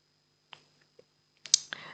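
A computer mouse clicking during software setup on a PC: a few isolated soft clicks, then a quicker cluster of louder, closer clicks near the end, with near silence between them.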